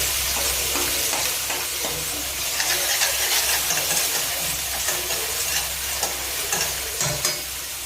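Spring onion with green chillies is stir-fried in a pan for spring rolls, giving a loud, continuous sizzle with scraping stirring strokes and bursts of hissing steam.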